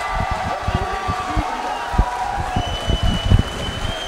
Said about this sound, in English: Jimmy gets a nice little crowd reaction.